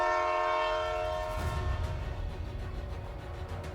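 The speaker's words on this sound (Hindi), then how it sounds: "पहाड़ों की ढलानों, गहरी घाटियों और मनमोहक दृश्यों के बीच से गुजरती यह ट्रेन दुनिया की सबसे सुंदर रेल यात्राओं में गिनी जाती है।" White Pass and Yukon Route train in Alaska sounding a long, loud multi-tone horn that fades out, followed by the rumbling and clattering of the train rolling along the rails, ending in a sudden sharp burst.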